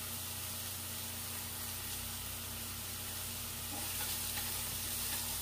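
Scallions frying in oil in a pan, pushed to one side for eggplant stir-fry, giving a steady, dense hiss of sizzling that holds evenly and grows slightly louder toward the end, with no voices.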